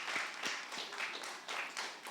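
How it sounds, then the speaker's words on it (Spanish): A small group at a church discipleship class on inner healing applauds, with a handful of soft, irregular claps at moderate distance and no one speaking over them. "Un aplauso, claro que sí."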